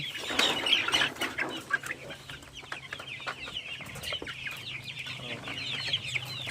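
Chickens clucking in their coop, a flock of grown chicks making steady overlapping clucks and calls at close range, with faint wing flutters and a low background hum.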